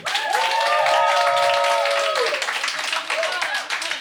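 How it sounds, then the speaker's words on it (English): A comedy club crowd at a New York roast battle bursts into loud, dense clapping and cheering that runs throughout, with a raised voice rising above the noise early on. "Make some noise if you think Elena Banfield won this battle"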